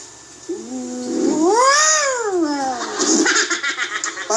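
A person imitates a cat on a roof with a loud, drawn-out rising and falling meow, followed by laughter and chatter.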